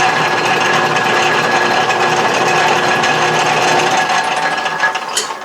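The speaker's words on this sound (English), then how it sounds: "force the die up against it, and I'm watching it at the same time till I get to the black mark, and then I'll stop the lathe" A small metal lathe runs steadily, turning a threading die onto a steam engine part. The motor hum and cutting noise stay loud and continuous, then ease off slightly at the end.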